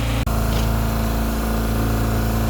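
On a sailboat with engine trouble, its engine runs at a constant, loud, close-up throb with an even mechanical drone and no breaks.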